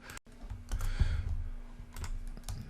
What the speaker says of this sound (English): you will go ahead and type in your title